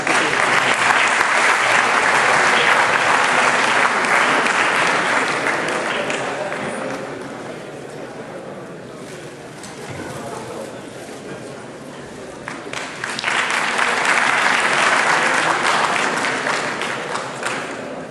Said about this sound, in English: Please put your hands together in welcoming these guests.